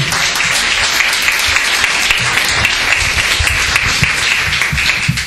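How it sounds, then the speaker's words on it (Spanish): A church congregation gives a sustained round of loud, dense applause for Jesus during a service. The clapping is continuous and close, with no break. "yo le pido al pueblo de Dios un aplauso a Jesús primeramente"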